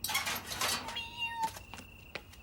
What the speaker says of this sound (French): Mais t'es blessé? Pauvre petit chat.